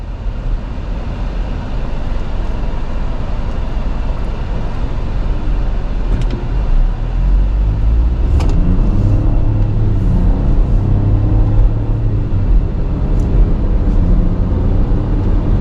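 A 2025 Buick Envista Preferred crossover cruises down the road, its steady low rumble of tyres and engine filling the cabin continuously with no talking.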